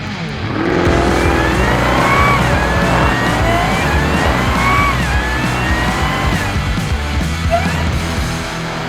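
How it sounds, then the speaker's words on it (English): A 2021 Dodge Durango SRT Hellcat using launch control roars close and loud, its engine revving in rising sweeps as it accelerates, with faint tyre squeal and a brief yell. "2021 Dodge Durango SRT Hellcat with launch control."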